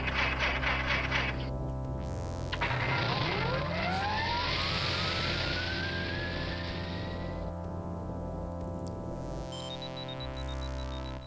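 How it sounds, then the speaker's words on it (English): Space Quest 6 game spaceship engine starting up with a rising whine that climbs in pitch over several seconds above a steady mechanical drone, then settles into a tonal hum. "Get the engine going."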